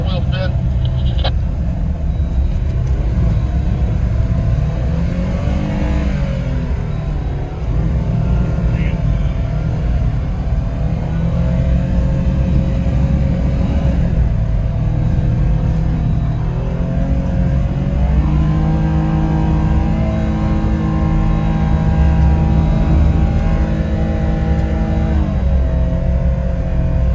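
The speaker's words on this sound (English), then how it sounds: "you need that little wheel spin" An off-road vehicle spinning its wheels on a winter trail in Kentucky, the engine droning and revving in long rising and falling surges, loud and continuous with occasional voices in the background.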